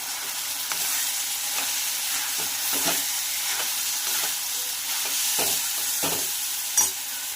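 Chopped capsicum frying with chilli powder and garam masala in a pan, a steady close sizzle broken by regular scraping stirs of a spoon, with no talking.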